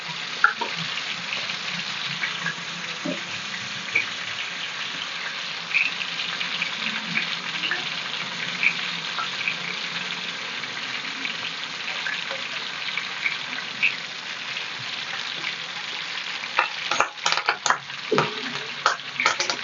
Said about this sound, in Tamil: இப்போ பர்றா பாருங்கம்மா மீன் நல்லா வறுந்து செவந்து போச்சு